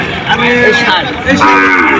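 A cow at a cattle market lets out loud, close, drawn-out moos, two long calls in quick succession with little else around them.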